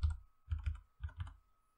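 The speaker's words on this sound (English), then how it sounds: "I'm typing one hand here, so I apologize." Computer keyboard typed with one hand while looking up game statistics, heard as three or four short clusters of close, quiet clicks separated by brief pauses.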